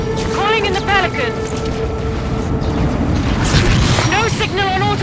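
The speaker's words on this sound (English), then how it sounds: "Banshees aren't fast enough to get clear of the reactor explosion." A reactor explodes in the Halo 5 video game with a deep, sustained roar and rumble. Sweeping synthetic whines and tones rise and fall over it, and radio-style voices talk through it.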